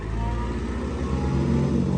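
A loud, sustained engine rumble from a Toyota Hiace van's 2.8-litre 3L diesel being revved holds steady throughout with slight rises in intensity, close by and without talking.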